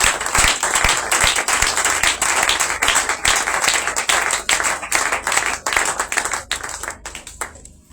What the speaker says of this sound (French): je ne sais pas si on peut donner juste une acclamation au Seigneur pour ça